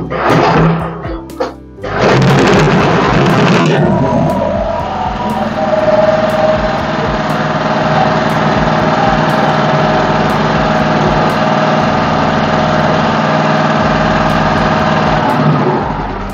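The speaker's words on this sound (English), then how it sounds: "let me kickstart the generator to show you guys something" A household petrol generator is kickstarted with a couple of loud thunking pulls and then settles into a steady, loud, close running drone with a high whine that continues to the end.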